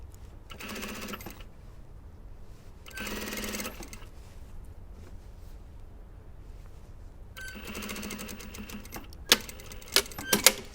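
A sewing machine stitches through the layered collars of a blouse in three bursts: a short run, a second short run, then a longer run. Each is loud and close with quiet gaps between, and a few sharp clicks come at the end.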